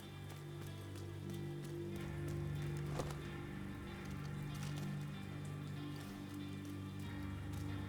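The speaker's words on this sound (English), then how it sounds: "Oh, it's raining." Steady rain in the video game Tom Clancy's The Division 2 patters across the scene, a constant wash of drops with a low droning background and a faint thud partway through.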